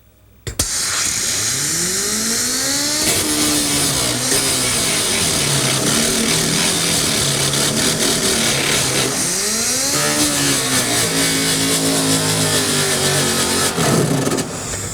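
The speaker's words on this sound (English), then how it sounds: "take our grinder again with our 24 grit disc and just grind the end of the stud off" Angle grinder fitted with a 24 grit disc grinds the end off a stud on a car body panel, a loud continuous whine with shifting pitch that runs almost the full length, easing briefly before picking up again.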